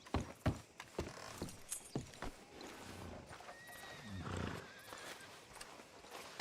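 A horse in Red Dead Redemption 2 whinnies while its hooves clip-clop in a run of sharp, close steps, with faint ambient game sounds underneath.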